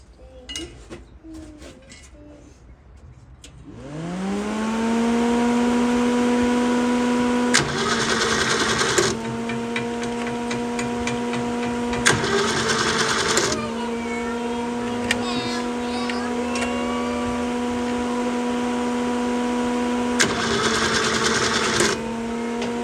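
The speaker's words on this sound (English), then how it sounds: "Just flick the ignition on and give her a bit of a whirl and see what happens here." A Holden red motor with a misfire and an oily, non-firing plug cranks over, then catches and runs with a steady low hum that holds for the rest of the stretch, with a few brief surges in level.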